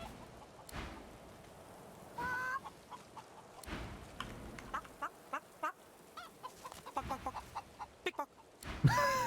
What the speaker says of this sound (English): Those are just chicken sounds.